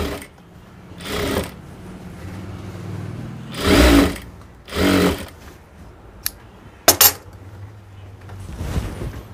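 Short bursts of sewing machine stitching run along pant legs, several separate runs of a second or so each with quiet pauses between and a few sharp clicks.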